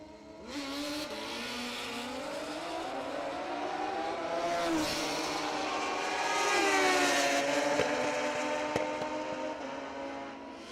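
Drag racing cars launching down the strip at the ManCup World Finals, a loud, sustained engine roar that climbs in pitch and swells as the cars pull away, with no voices.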